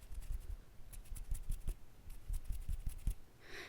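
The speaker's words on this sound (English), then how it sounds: "I'm going to be fluttering my fingers beside your ears, one at a time, or both" Soft, quick rustling taps close by, an irregular patter of fingers fluttering beside the ears, ending in a brief breathy hiss.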